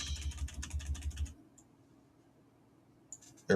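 Arrow keys on a computer keyboard tapped in a quick series of close clicks, then near silence with a faint hum, followed by a couple of final taps and a louder knock.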